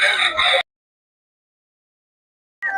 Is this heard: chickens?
yes